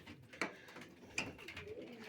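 Soft, low cooing from pigeons close by, with a couple of brief sharper flutters or calls in a quiet space.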